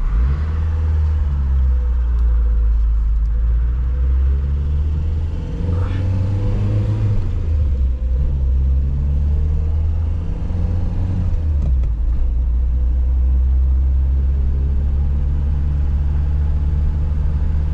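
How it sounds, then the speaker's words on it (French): A 1977 Renault 20 TL engine idles with a loud, steady, deep rumble that holds for the whole stretch, with slight swells in pitch partway through. "Faire attention au ralenti, parfois il est capricieux et la voiture peut caler."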